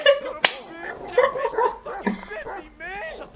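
Dog barking in GTA 5, a few short yips and bow-wows mixed into game sounds with people talking over them.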